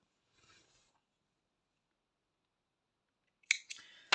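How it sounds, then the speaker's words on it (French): Scissors cut crochet yarn while making a small amigurumi reindeer, with a couple of crisp snips near the end after a faint rustle and a long quiet stretch. "on va couper le fil"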